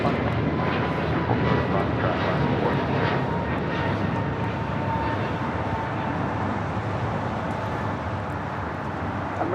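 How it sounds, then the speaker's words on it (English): Steady, loud jet roar from an Alaska Airlines Boeing 737-800 arriving at LAX from Reagan National, a broad continuous engine rush that eases slightly toward the end. "This is Alaska Airlines Flight 5 coming in from Reagan National, the 737-800."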